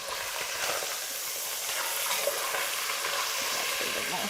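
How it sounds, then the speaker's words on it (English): Mince shallow-fries in olive oil in a pan, giving a steady, close, even sizzle and hiss that carries on alone without pause. "I'm going to let that sit there and fry in that olive oil"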